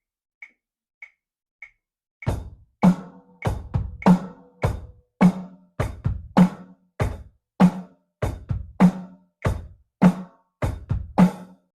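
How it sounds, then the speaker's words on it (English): A basic thrash drum beat played on hi-hats, opening with three faint count-in clicks and then a fast, steady run of sharp strikes, each landing with a low thump, close and loud with no talk. "Here we have a pretty basic thrash beat."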